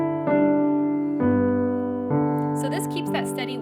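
Piano left hand plays a broken root, fifth, root pattern for Silent Night, three clear note changes in a steady triple pulse, with a voice talking faintly over the last part.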